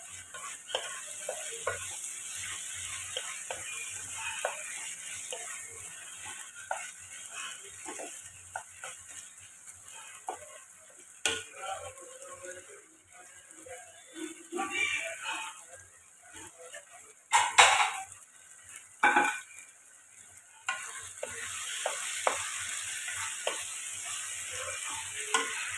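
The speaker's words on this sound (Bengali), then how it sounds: "একটুখানি আমি এটা কষবো, বিকজ যে আদা রসুনের যে একটা কাঁচা গন্ধ সেটা যেন চলে যায়" Ginger garlic paste for chicken masala sautéed in a pan makes a constant close sizzle, broken by scraping stirs and occasional louder clatters, while a person talks over it at times.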